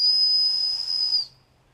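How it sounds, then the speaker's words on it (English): A homemade willow bark whistle, carved with a pocket knife, gives one long, shrill, steady tone lasting over a second, close and clear, then fades into near silence. "With just a pocket knife, we made ourselves a nice little whistle"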